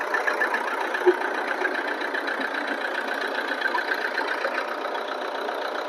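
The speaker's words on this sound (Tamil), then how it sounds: "இன்ஜின் சவுண்ட் பாருங்க." A used car's engine idles steadily with a low, even hum and faint rhythmic ticking, moderately quiet and unchanging, heard alone with no talking.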